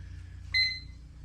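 A kitchen timer gives a single short electronic beep, clear and close over a low steady hum, while homebrewing a one-gallon nut brown ale.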